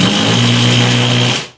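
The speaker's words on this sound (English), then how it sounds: "what you're hearing is a hammer actually hammering it, spinning right" A loud, buzzing mechanical whir of an impact driver hammering as it spins, driving a lag bolt, steady for over a second, then cutting off abruptly.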